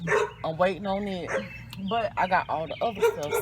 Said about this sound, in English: excuse the dog next door, child. He just barking.